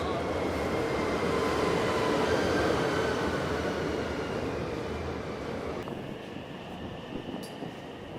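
Low rumbling roar of a EuroCity train departing and rolling along, steady and enveloping, gradually easing off toward the end.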